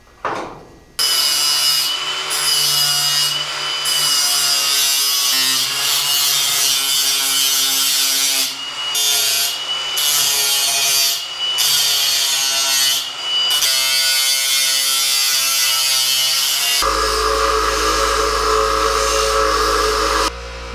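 Lexan sheet being cut for a windshield frame on a South Omaha Speed Omaha Coupe, a loud, sustained rasping cut with brief pauses, close by, changing to a deeper steadier tone near the end.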